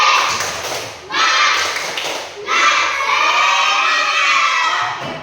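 Schoolchildren in a primary classroom clap and shout the rhythmic 'tepuk semangat' chant together, a loud burst of voices and claps that swells, dips briefly, then continues strongly with a teacher leading.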